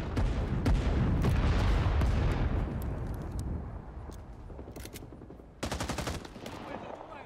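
Gunfire in Rising Storm 2: Vietnam, with dense, loud automatic bursts and single shots cracking near and far, fading into scattered shots before a sharp close burst of rapid fire, with faint talk underneath.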